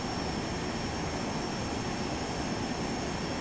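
Jet engines of an Airbus airliner in a flight simulator drone steadily as power is added, a loud even roar with a thin high whine running throughout, alone without talk.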